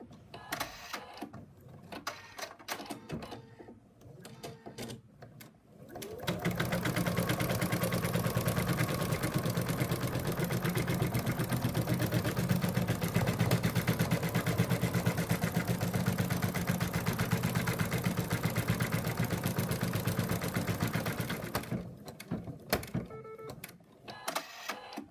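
An embroidery machine stitches an in-the-hoop purse, joining front and back, with a steady, loud, continuous mechanical whir and rapid needle clatter lasting about fifteen seconds between quieter stretches.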